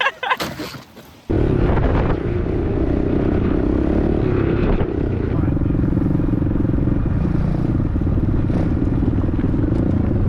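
A pit bike's small engine drones loud and close through a snowy, icy mountain ride, steady and rough with wind buffeting after a brief quieter start.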